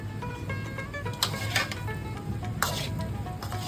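Mixed vegetables sautéing in a pan for a Bengali-style vegetarian dish, a steady sizzle broken by a few clinks and scrapes of a utensil against the pan, close.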